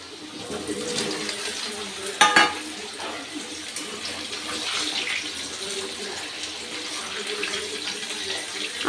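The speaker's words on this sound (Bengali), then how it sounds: "এবার দিয়ে দেবো এই শোলা কচু।" Shola taro pieces are dropped into a pan of lightly fried potatoes, a sudden crackling burst of sizzle over steady hissing frying that carries on evenly afterward.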